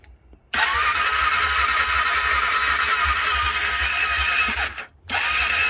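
A 2001 Honda CB500S motorcycle with choke on, on a very cold day, cranks briefly then catches into a loud, steady idle, dips and cuts out for a moment, then restarts and runs on.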